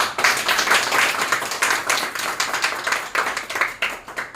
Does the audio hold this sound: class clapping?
yes